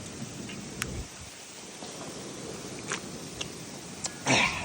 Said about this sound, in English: it's going to start hailing in the middle of fucking April because you live in the Midwest